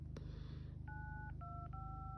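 An iPhone 6s keypad gives three short dialing tones in quick succession, clear and close, over a steady low electrical hum.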